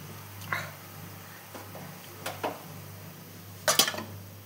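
A pot of chital fish curry is lifted off a gas stove, giving a few sharp metallic clanks and scrapes of the vessel. The bursts are irregular and spaced out over a quiet background.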